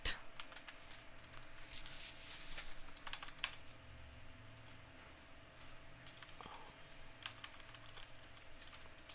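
Computer keyboard typing while working in Unreal Engine 4: bursts of quick, close key clicks over a low background hum, tapering into sparse taps, with no voices.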